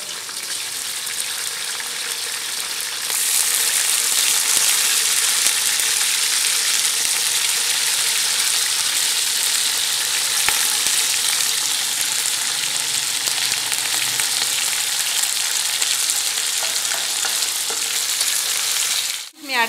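One kilogram of beef with some fat fries with onions in a pot, a loud dense sizzle that swells after a few seconds and holds steady and close for the rest of the clip, with no voices.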